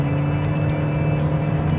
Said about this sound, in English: this CVT gearbox holds the engine at constant revs if you come up to a long hill or if you accelerate